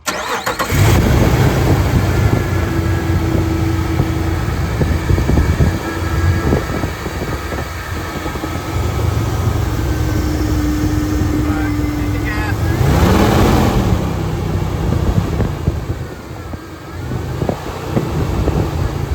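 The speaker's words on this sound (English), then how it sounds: "Stupid Jeep's making horrible noises." A Jeep engine cranks, then runs and revs with rough, uneven rumbling, loud and close amid street and construction noise, while someone talks over it.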